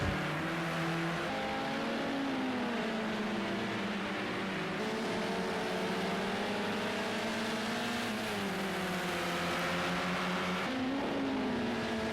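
Touring car racing at Brands Hatch heard from on board: a continuous, loud engine drone whose pitch climbs and drops with gear changes and throttle, with other cars around and no talking.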